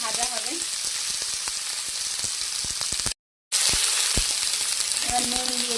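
Cauliflower and potato pieces fry in a pan with a steady, loud, close sizzle and occasional pops and scrapes, briefly broken by a moment of silence.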